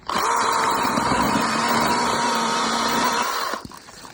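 A Makita DUC150 cordless mini chainsaw cuts through a log over 20 cm thick, its motor holding a steady high whine under load for over three seconds before stopping abruptly, close and loud.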